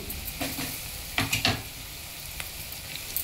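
Ginger paste frying in a pan for a ginger-chili potato fry, a close continuous sizzle with a small cluster of spatula scrapes midway and a fainter tap later.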